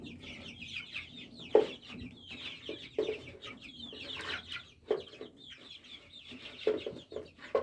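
Soft, repeated clucking and small peeping calls from one-month-old Adler and farmyard chicks nearby, in short scattered bursts over quiet background; no one speaks.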